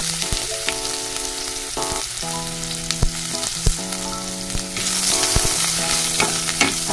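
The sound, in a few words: ginger browning and sizzling in a pan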